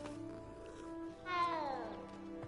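A cat meows in the video game Hogwarts Legacy, one drawn-out, rising then falling cry about a second long, heard over quiet steady game background.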